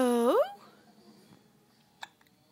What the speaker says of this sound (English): She's got hiccups, doesn't she